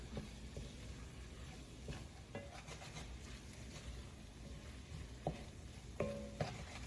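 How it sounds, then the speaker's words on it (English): Chicken pot pie soup with dried herbs being stirred in a pot, giving a steady soft scraping and bubbling texture with a few sharper utensil clicks near the end, fairly quiet and without talk. "we're just gonna give that a nice stir, let that heat start to cook up and awaken those dried herbs."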